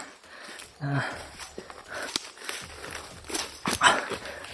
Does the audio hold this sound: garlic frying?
no